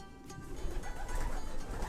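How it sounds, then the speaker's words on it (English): Distance racing pigeons coo softly in a loft, a low, continuous murmur of several birds close by with faint background noise and no talk. "So these will be all distance pigeons."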